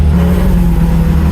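A classic Fiat 500 engine running in gear with a fault, a loud, close, steady low mechanical drone with a rough pulsing edge.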